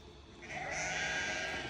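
Sheep out on spring pasture bleat loudly and close by, a sustained chorus of overlapping calls lasting the whole moment.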